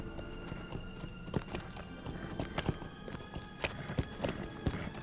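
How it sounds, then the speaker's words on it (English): Horse hooves clip-clop at a quick gallop in the online game Lord of the Rings Online, a steady run of sharp hoofbeats, fairly close and clear, over a faint bed of game music and ambience. "let me go ahead and buff my horse's movement speed."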